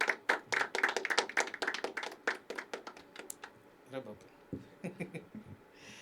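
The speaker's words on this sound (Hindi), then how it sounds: "जोरदार तालियां भाई के लिए" Audience at a poetry open mic applauding a performer, a quick run of crisp, close hand claps that thins out into scattered claps and fades.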